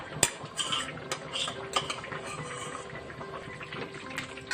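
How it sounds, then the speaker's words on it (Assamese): Small fish drop into a pot of banana stem and jackfruit seeds for an Assamese khar dish, with quiet clinks of a utensil against the pot and soft wet stirring sounds. "কঁঠাল গুটিখিনি দিয়া হোৱাৰ লগে লগে আমি এতিয়া ইয়াত দিম সৰু মাছখিনি।"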